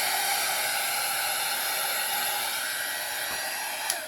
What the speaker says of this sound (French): Et on peut enfin éteindre notre heat gun. Et oui, parce que ça casse un peu les oreilles.